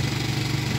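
A catamaran boat engine running on the João Gomes reservoir gives a steady, low, droning hum that holds without change through a very short moment.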